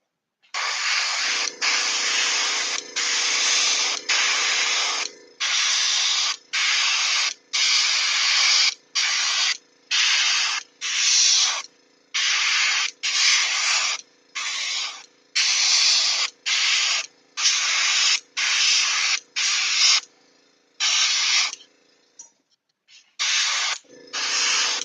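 Aerosol spray paint hisses onto Guild Ball miniatures in repeated bursts, each lasting about one to two seconds with short gaps between them. The bursts are steady and close, and no one talks.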